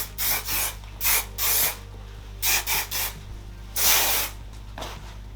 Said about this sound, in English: I'm gonna add some hairspray to the dry side